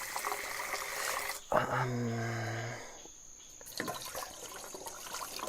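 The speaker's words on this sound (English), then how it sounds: "So the water flow is really low." Low-flowing stream water trickles and burbles steadily nearby. A low, drawn-out tonal call breaks in midway before the trickling carries on alone.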